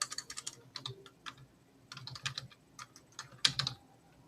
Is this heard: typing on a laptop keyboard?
yes